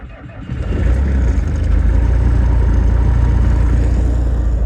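Diesel engine of a Bobcat 753 skid steer idling after a cold start in Florida, a loud, steady low rumble that swells over the first second and then holds at an even, throbbing drone.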